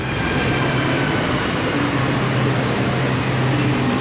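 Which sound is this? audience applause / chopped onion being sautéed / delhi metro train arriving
delhi metro train arriving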